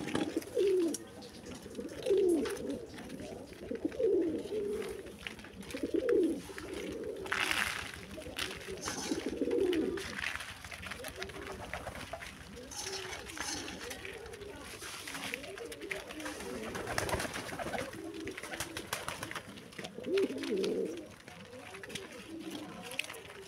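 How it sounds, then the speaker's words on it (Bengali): Pigeons on a pigeon farm coo in low, repeated rolling bursts at steady intervals, close by, with fluttering and shuffling in the background. "এটা আমার প্রথম কবুতর।"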